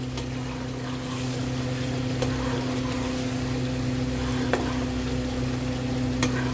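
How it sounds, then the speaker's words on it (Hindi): Chicken malai curry masala with ground coriander frying and being stirred in a pan, a steady broadband sizzle over a constant low hum with a few light scraping clicks, close and even throughout. "हम इसको मिक्स कर देंगे धनिया, और हमें अच्छी तरह से इसको भूनना है।"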